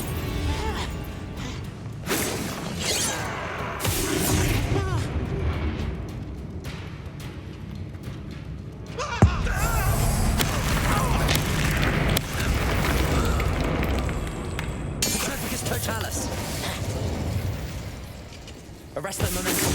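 Confringo blasting spell detonating in Hogwarts Legacy during a wizard duel, a dense mix of booming bursts and whooshes layered over continuous game noise, with a voice speaking throughout.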